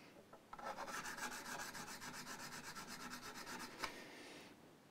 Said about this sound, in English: then we're going to the sanding and polishing process.